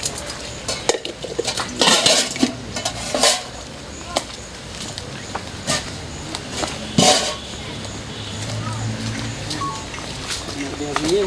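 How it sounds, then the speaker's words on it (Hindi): Washing dishes, pots and pans at home: irregular clanks, scrapes and metallic clinks of utensils knocking together, close and moderately loud, with someone talking throughout. "चलो बर्तन धोवाइए"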